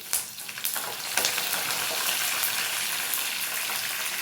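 Garlic cloves frying in a pan with curry leaves for tamarind chutney, a bright, hissing sizzle that starts with a few clattering stirs and then holds steady and loud until it cuts off abruptly, with no talking.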